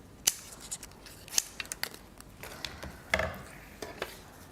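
Scissors snipping a cut-out paper bow for a winter decoupage craft, a few quiet, sharp snips spaced out over a few seconds, close and soft, with no talking.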